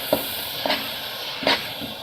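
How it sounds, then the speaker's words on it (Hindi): A spiced masala with tomatoes cooks in a pan for potato and capsicum curry, a steady soft sizzle broken by three or four louder scraping stirs at irregular intervals. "इसके साथ ही हम इसके अंदर टमाटर डाल देंगे और इस सारे मसाले को हम 2 से 3 मिनट के लिए पकाएंगे।"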